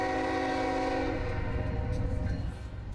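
A train passing through White Rock, British Columbia, along the waterfront promenade sounds a loud, steady horn blast for about a second over heavy rolling rumble, then the rumble of the passing cars carries on alone.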